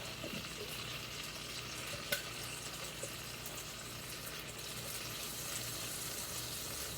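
Tomato paste fries in a hot pan for keto barbacoa, a dense, continuous sizzle with faint scraping as it is stirred, steady and close throughout.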